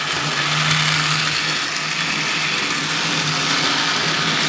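A Lionel toy switch engine train runs with a steady, loud electric motor whine and gritty whirring, continuous throughout with no pauses or talking.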